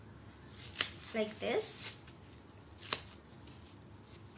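Scissors snip a small square from a Scotch-Brite sponge in a few brief crisp cuts up close, between moments of soft talking.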